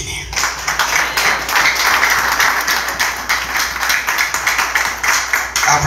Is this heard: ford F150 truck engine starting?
no